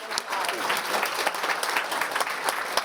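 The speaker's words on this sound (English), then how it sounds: "Let's give them applause." Audience at a panel discussion applauding, a dense steady patter of clapping hands lasting a few seconds at moderate loudness.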